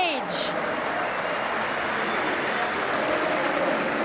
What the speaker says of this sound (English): please, can I hear you cheer?